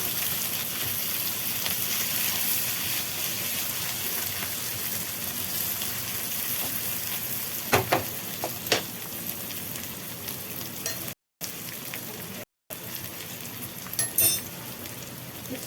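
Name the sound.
sautéing tamarind for chutney in pan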